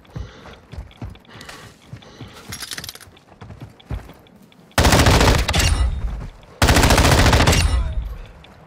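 In a video game, an underbarrel grenade launcher fires nonstop in two long, loud bursts of rapid blasts, after quieter clicks and mechanical rattling.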